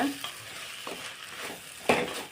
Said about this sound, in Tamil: இந்த மாதிரி இடையில எடுத்து கிண்டி விடுங்க